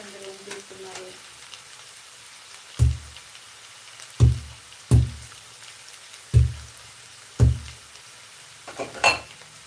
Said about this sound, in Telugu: నేనైతే ప్రజెంట్ అయితే వెల్లుల్లి దంచి వేస్తున్నాను